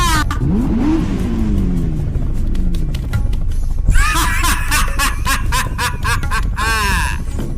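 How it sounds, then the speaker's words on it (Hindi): A cartoon car moves with no driver, its engine revving and whooshing closer, with comic laughing and sliding voice effects layered over it, and a bright burst near the end. "देखो ये गाड़ी हमारी ओर ही आ रहा है।"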